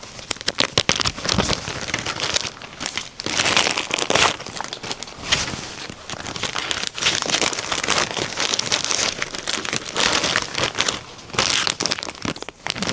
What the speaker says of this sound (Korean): 여기다가 지퍼백에 잘 넣어줍니다.